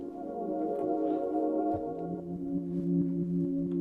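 A sustained buzzy synthesizer tone with a bright, rich harmonic edge, shifting to a lower held note midway, played alone.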